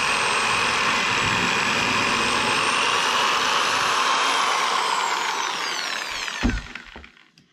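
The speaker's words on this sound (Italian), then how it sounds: "Ora faccio un buco col trapano qui nel legno" A power drill bores a hole in wood while fitting out a Fiat Ducato camper van, a loud steady whirring whine that runs continuously for about six seconds, then winds down with a few clunks as it stops.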